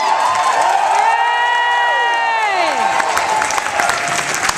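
Loud audience applause and cheering at a drag pageant, with whoops and gliding, sustained shouts rising over a steady bed of clapping across the whole stretch.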